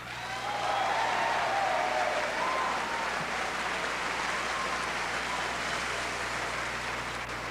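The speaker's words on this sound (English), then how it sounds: "You can continue the applause because to me they deserve every bit of it." Sustained audience applause fills a 1985 AIDS Project Los Angeles Commitment to Life fundraiser evening, a dense steady wash of clapping from a large crowd that holds at an even level throughout with no voices breaking through.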